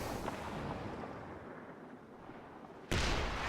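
A Bofors anti-aircraft gun fires in the World War II strategy game Company of Heroes 2: a sustained rumbling barrage of booming shots and battle noise, ending in a sudden loud blast near the close.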